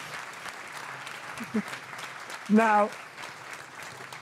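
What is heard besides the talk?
audience applause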